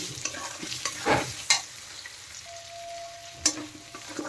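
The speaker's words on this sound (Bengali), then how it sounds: "আলুগুলো একটু ভালো করে ভেজে নেব এই মশলার সাথে।" Potatoes frying in a pan with onion, garlic, ginger and chili, stirred now and then with scraping clatters over a steady low sizzle; no talking.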